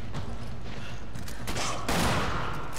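Heavy gunfire from a Magnum pistol in the video game Resident Evil 5, with dense rumbling shots and a louder burst near the end over a busy game background.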